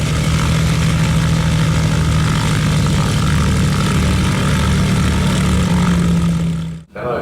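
The last airworthy Yeoman Cropmaster 250, a rugged agricultural plane, drones with a loud, steady propeller engine hum close by, unbroken until a brief dip near the end.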